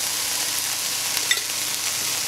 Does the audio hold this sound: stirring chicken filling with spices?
yes